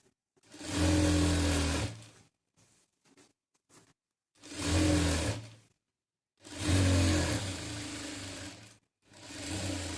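A sewing machine stitches frills onto a lehenga in four whirring bursts of about one to three seconds each, close and clear, separated by pauses with small handling clicks.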